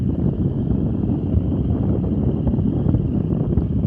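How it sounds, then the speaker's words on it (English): Steady wind blowing across the top of a city water tower high above the ground, a continuous low roaring rush buffeting the microphone throughout, loud and close with no voices. "I did leave the sound on so you can hear the wind blowing"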